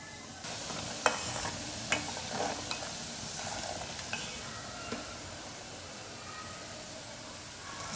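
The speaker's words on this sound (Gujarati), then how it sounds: "ગેસની ફ્લેમ આપણે ધીમી જ રાખવાની છે અને ધીમા ગેસ પર જ આ રીતે આપણે કન્ટિન્યુ ચલાવતા" Ground whole spices being stirred into a mango pickle mix over a low flame, a soft continuous sizzle with intermittent spoon scrapes and clinks against the pan.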